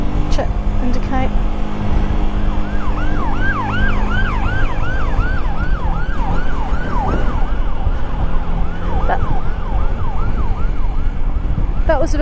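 A fire engine's wailing siren rises and falls repeatedly as it passes a motorcyclist on a road near Salisbury, heard over loud wind and engine rumble, with a rider's voice speaking at moments.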